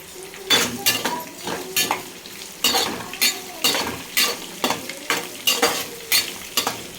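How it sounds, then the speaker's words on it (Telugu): Onions and curry leaves fry in a pan for tomato rice while a utensil stirs them in repeated scraping strokes, each sharp metallic scrape rising over a steady low sizzle. "ఉల్లిపాయ బాగా వేగినంత వరకు కలుపుతూ ఫ్రై చేసుకోండి"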